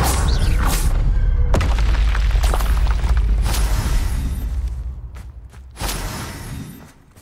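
Bombarda blasting spell going off in Hogwarts Legacy: a loud, booming explosion with a sharp crack near the start, a rumbling sustained blast that fades, then a second smaller burst near the end.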